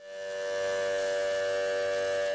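A civil defense siren sounds during a nationwide emergency mock drill in India, a sustained rising wail that swells in the first half second and then holds a steady, loud, harmonic-rich tone throughout.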